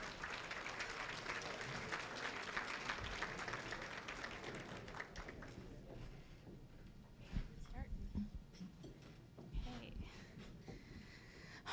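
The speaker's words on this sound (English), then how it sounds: "let's give them a round of applause" A room of guests at a benefit luncheon breaks into steady applause, dense clapping at first that thins out into scattered claps, with faint voices underneath.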